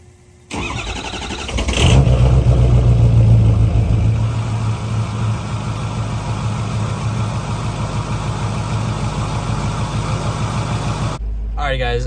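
A Ford F250 Powerstroke diesel truck, cold after three days unused, cranks briefly, catches and revs up loudly, then settles into a steady rough idle heard up close before it cuts off.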